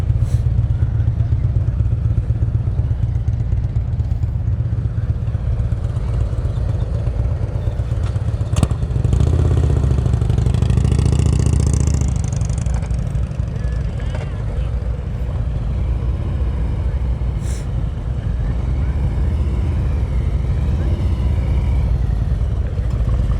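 A motorcycle idles and creeps along at low RPM during an advanced slow-speed riding practice session in North Carolina, a steady close engine rumble with slight rises, while people talk over it.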